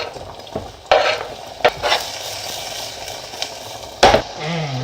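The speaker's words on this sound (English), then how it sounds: "Sizzling away nicely." Onions sizzle steadily in a hot pan, with a few sharp scrapes and stirring clatters of a utensil against the pan.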